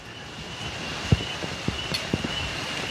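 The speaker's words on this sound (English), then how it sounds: "It's now raining." Rain falling outdoors at a fish farm with tanks, a soft steady patter with a few louder drops and taps scattered across it, fairly quiet and continuous.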